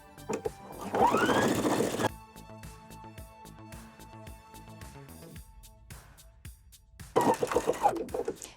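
A sewing machine stitches an elastic waistband in two loud bursts of rapid mechanical whirring, separated by a quieter stretch of faint clicks and handling noise.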